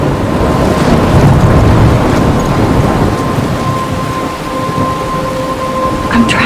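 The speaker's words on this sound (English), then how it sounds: "I'm trapped in a storm?" A thunderstorm with heavy rain in the video game Life is Strange, a steady loud downpour with low thunder rumbling throughout.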